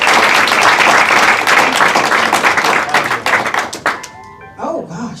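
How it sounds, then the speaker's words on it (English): Audience applause for scholarship recipients at a health scholarship recognition ceremony, a loud, dense burst of many hands clapping that thins out and fades near the end, with a voice starting to speak. "Let's give them one more round of applause."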